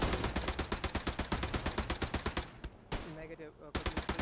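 Sustained machine-gun fire in the World War II shooter Hell Let Loose, rapid evenly spaced rounds hammering loudly for several seconds, a short pause, then another burst; a voice is faintly present.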